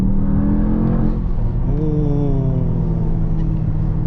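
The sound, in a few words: 2023 Mercedes-AMG GT 63 S E-Performance V8 accelerating hard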